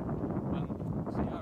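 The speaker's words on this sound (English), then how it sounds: "Ooh, very windy." Wind gusts buffet the microphone outdoors on a metal-detecting site in the UK, a low, rumbling roar with uneven surges across a brief moment.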